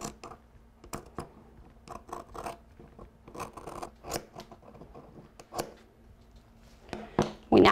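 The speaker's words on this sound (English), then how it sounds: "slowly use your scissors to cut the line that you made." Scissors slowly cut fiberglass cloth along a marked line while preparing fiberglass tabbing. The crisp snips are close and come in an irregular series, with no voices.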